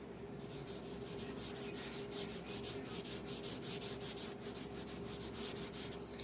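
A rag rubs wood stain onto a thrift-store piece of wood, making a continuous close, soft scrubbing with quick rhythmic strokes and no talk.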